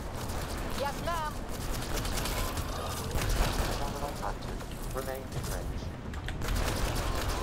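Sustained gunfire in Mass Effect Andromeda combat, rapid overlapping bursts of shots beneath voices talking, fairly loud and steady throughout.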